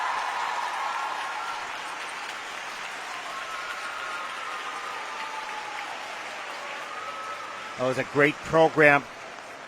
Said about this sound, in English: Standing ovation for Katsuki.